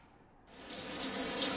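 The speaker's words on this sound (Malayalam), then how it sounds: "അകത്ത് കയറി ഷവർ ഓപ്പൺ ചെയ്യടാ" A shower is switched on and water starts pouring steadily after a short pause, a close hissing spray that grows slightly and holds, with no voices over it.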